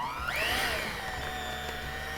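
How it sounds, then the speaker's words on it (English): A hand mixer whirs steadily while blending cream cheese and butter for a chocolate chip cheese dip, a continuous close motor drone with a brief pitch rise near the start. "I use a hand mixer for this because I think it's just super easy"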